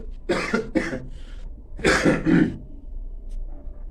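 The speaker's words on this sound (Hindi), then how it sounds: "कोरोना नहीं हो रहा है, खांसी हो रहा है।" Four harsh coughs in two quick pairs, close and loud, followed by a low steady hum with no talking.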